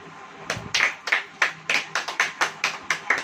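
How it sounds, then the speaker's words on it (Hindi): Rhythmic handclaps ring out, starting uneven then settling into a steady beat of about a dozen sharp claps, close and fairly loud. "अब ताली बजाओ।"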